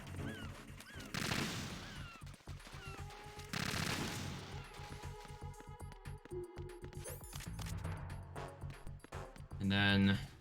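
Gunfire in the Metal Gear Solid 2: Substance video game, a few sharp shots and clattering bursts mixed with game effects and music, with someone talking over it.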